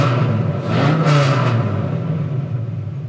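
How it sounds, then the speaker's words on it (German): A large 8-litre V10 engine in a US Chevy G20 van revs up and holds a deep, smooth rumble, with a rising whine in the middle before settling back to a steady drone. "Klingt vom V10 her ganz anders, als man die V10s, die man so aus dem R8 und aus dem Lambo und so kennt"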